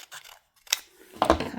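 Scissors cutting paper during a hot-glue craft project, a few short crisp snips close by, quiet with small gaps between them.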